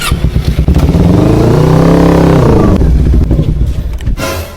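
A motorcycle engine revs loudly up close, climbing in pitch to a sustained roar and then dropping back with clattery idling at the end.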